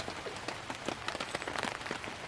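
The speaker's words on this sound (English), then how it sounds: "listen to the rain patter on the fly" Rain patters steadily on a tent fly at a woodland canoe campsite during a thunderstorm, a dense scatter of close, light drops with a few sharper taps, heard alone with no voices.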